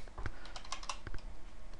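Rapid keystrokes on a computer keyboard, a quick irregular run of close, crisp clicks while writing C++ code, with no voice over them.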